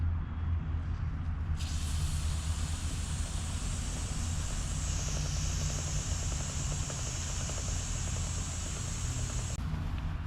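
Aerosol chain wax sprayed steadily onto a motorcycle chain during winter prep, one long continuous hiss lasting several seconds over a low engine-like rumble, no talking.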